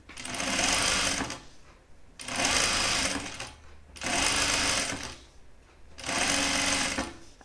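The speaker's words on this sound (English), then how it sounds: "I'm sewing this at a 1/4 inch seam allowance." A sewing machine stitches a seam on jeans at a quarter-inch allowance, running in four rhythmic bursts of rapid mechanical whirring separated by short pauses, close and steady.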